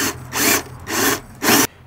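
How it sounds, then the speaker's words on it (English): A half inch brad point bit drills into wood in three loud grinding bursts, each lasting about a third of a second with short pauses between, then the sound stops. "So what I've got here is a half inch brad point drill bit."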